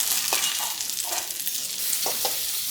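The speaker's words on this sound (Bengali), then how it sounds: "আজকে চিংড়ি মাছটা খাঁটি সরিষার তেল দিয়া ভাজি তেল গরম হয়েছে এখন আমি মাছটা দিয়ে" Prawns fry in hot pure mustard oil with a loud, constant sizzle, broken by a few soft scraping stirs.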